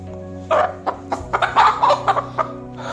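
Hens sick with fowl pox cluck in short, uneven bursts close by, several calls in quick succession over a low steady hum.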